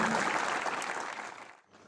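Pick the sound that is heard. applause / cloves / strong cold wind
applause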